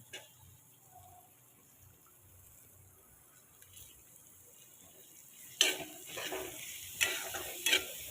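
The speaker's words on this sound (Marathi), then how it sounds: "हळद व्यवस्थित परतून झाल्यावर आपण आता भोपळा टाकू." Bottle gourd tipped into hot turmeric in a pan crackles up sharply after a quiet stretch, giving a few loud sizzling bursts close by with stirring scrapes between.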